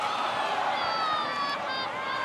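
Soccer stadium crowd at a USL match between Whitecaps FC 2 and Tulsa Roughnecks rising in anticipation, a broad distant roar of voices swelling with whistles cutting through, steady and fairly faint.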